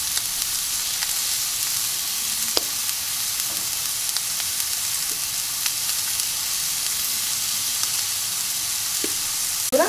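A beef steak sizzles steadily in a hot pan, a continuous close frying hiss with occasional small pops and crackles, alone without any talking.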